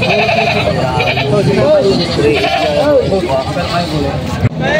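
Several goats bleat repeatedly, close and loud, over background chatter and a busy crowd at a livestock market in Padre Garcia, Batangas.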